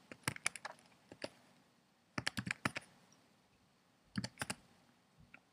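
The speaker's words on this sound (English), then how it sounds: "you're just going to have to type in some simple word verification" Keys clatter on a computer keyboard as a short word is typed, coming in three quick bursts of close, crisp clicks separated by pauses, with no talking.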